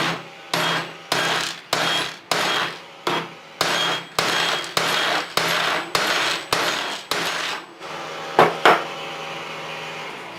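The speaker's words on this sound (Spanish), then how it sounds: "y esta golpeamos con el martillo" A hammer strikes a metal thread insert into a hole, about a dozen evenly spaced blows, each ringing briefly, then a couple of quicker final knocks.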